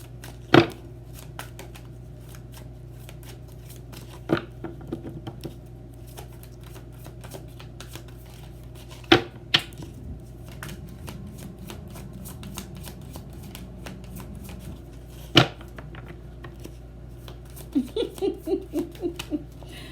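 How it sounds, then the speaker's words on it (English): Tarot cards are shuffled by hand in a quiet room: sharp riffling snaps come every few seconds, ending in a quick run of soft taps near the end, all close and with no voices. "Let me shuffle better."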